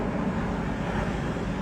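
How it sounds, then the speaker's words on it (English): Distant traffic from cars on a road ahead and passing airplanes overhead, a steady low broadband rumble that fills the background without clear peaks or voices. "There's the airplanes. There's the sound of the cars on the road ahead of me."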